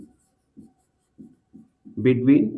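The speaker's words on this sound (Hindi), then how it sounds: "तो सबसे पहले हम नंबर्स लिखेंगे।" Numbers written by hand with a pen or pencil on paper, several short, separate scratchy strokes at a steady pace, followed by a brief voice at the end.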